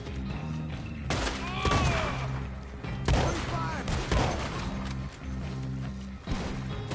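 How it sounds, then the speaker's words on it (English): Shotgun firing slugs in the Red Dead Online video game: several loud, sharp blasts spaced a second or two apart, with other gunfire, impacts and a voice between them. "I'm gonna use slugs on this shotgun."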